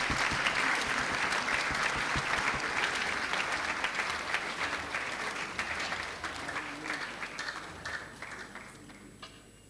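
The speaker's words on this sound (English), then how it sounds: "A round of applause for him." Audience clapping at a Ghana Navy Memorial Day ceremony, a dense sustained round of applause from a sizable crowd that starts full and slowly thins toward the end, with no talking over it.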